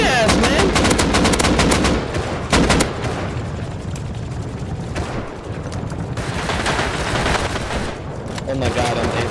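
Rapid bursts of gunfire in the survival video game Rust crackle loudly and near, dense volleys at the start easing into continuous firefight noise with further shots, heavy and sustained throughout.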